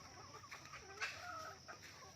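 Gamefowl pullets, young hens of fighting stock raised for breeding, cluck close by in a short run of overlapping calls on a farm, with no talk over them.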